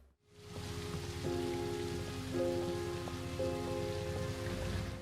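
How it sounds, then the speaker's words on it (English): Steady rain falls and patters on surfaces in a scene from The Queen's Gambit, a dense continuous hiss with faint tonal music underneath. "It's raining on you."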